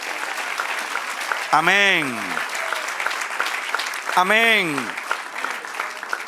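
Church congregation applauding during a Spanish-language sermon, a steady crowd clapping throughout while two loud voices call out over it.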